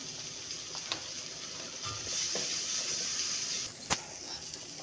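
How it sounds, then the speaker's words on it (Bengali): Chicken pieces with salt, chili, turmeric, cumin and chicken masala sautéing in a pan, giving a steady soft sizzle with occasional clinks of a spoon stirring, close and fairly quiet, with no talk. "হালকা একটু পানি দিয়ে ভালো করে কষিয়ে নেব"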